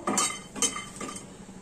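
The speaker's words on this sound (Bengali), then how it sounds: "কাজু বাদামটা এইটা আমি ভেজে নিচ্ছি হালকা করে।" A utensil clinks against a pan while cashew nuts are stirred and lightly fried, giving three sharp metallic knocks spaced a fraction of a second apart over a quiet background.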